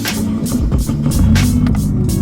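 A Nissan 240SX starting up inside a warehouse, its engine cranking and catching with loud, rough pulsing bursts that continue into an uneven idle.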